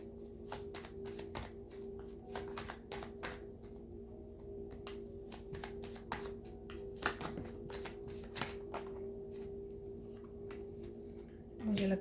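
Tarot cards shuffled by hand for a card reading, a steady run of quick riffling taps and snaps close up over a low background hum, with no talking.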